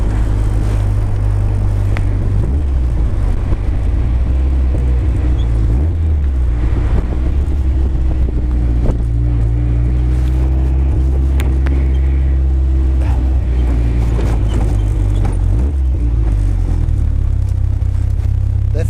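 A Phoenix car being driven in fifth gear, a loud, steady in-cabin engine drone with deep rumble and a rising and falling whine as the car speeds along, heard close and continuously.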